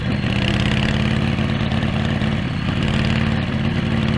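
A custom Harley Davidson FL chopper's V-twin engine running steadily nearby, a loud, continuous throbbing rumble with an even lumpy beat and no voices.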